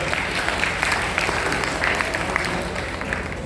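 A large audience bursts into loud, sustained applause, a dense wash of many hands clapping steadily without letup, with faint crowd murmur underneath and no clear speech.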